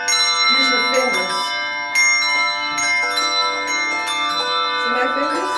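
Handbells ring repeatedly in a bell class, with bright overlapping tones and sustained ringing. Several strikes sound close and loud, with voices faintly under them.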